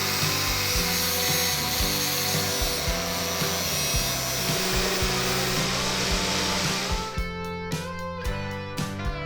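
An angle grinder sharpens one end of a cut metal rod to a point for a homemade wooden speargun. A loud, steady, whining grind runs for about seven seconds, then stops, leaving a low hum and a few brief clicks.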